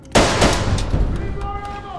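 Gunfire in a science-fiction firefight aboard a spaceship: a sudden loud blast followed by rapid overlapping shots and echoing booms, mixed with shouting voices.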